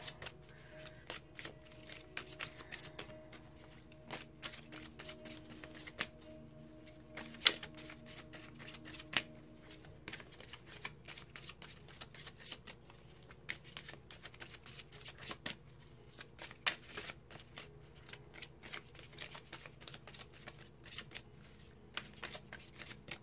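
A deck of oracle cards shuffled by hand in a long run of soft riffling and flicking bursts with small taps, close and quiet throughout, with no talking.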